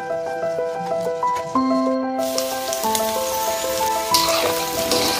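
Goat tripe (boti) frying in a pan gives a steady broadband sizzle that swells sharply halfway through and carries on, with tonal background music throughout and no talk.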